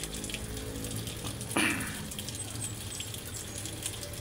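Tap water pours steadily from a faucet into a container holding catfish during a water change, a close, continuous rushing splash with one brief louder clatter.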